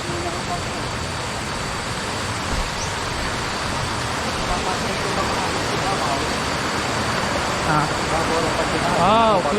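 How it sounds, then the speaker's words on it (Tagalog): Water pouring at Igpasungaw Falls in Sebaste, Antique, a loud steady rushing roar that fills the scene without pause, with a few faint chirps near the end. "nakaka-relax yung tunog ng tubig"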